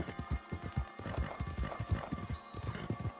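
Horse hooves clip-clopping in a western video game, with a steady, close, even-paced rhythm of sharp hoof strikes and a faint whinny toward the end.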